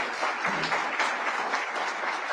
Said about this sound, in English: Let's give a special round of applause to Marilyn Simons.